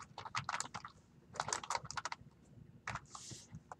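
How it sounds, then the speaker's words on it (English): Rapid bursts of typing on a computer keyboard, close and fairly quiet, coming in clustered runs of keystrokes separated by short pauses. "I'm getting tired of typing"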